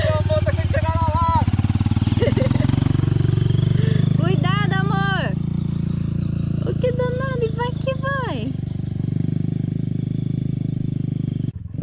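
A motorcycle ridden on sand in Jalapão: a steady, loud engine drone runs throughout while excited voices talk and shout over it.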